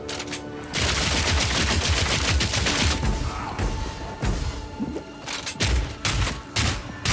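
Rapid bursts of gunfire from the Path of Exile 2 video game, a mercenary character shooting in dense, loud volleys with short pauses and booming hits, no talking.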